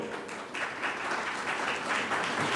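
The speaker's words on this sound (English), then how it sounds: "Let's clap for it." Audience applause at the Dehradun launch of the book "Swallowing the Sun", a steady wash of many hands clapping at moderate loudness, filling the room without a break and with no voices on top.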